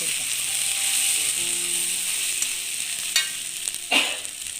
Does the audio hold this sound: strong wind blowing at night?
no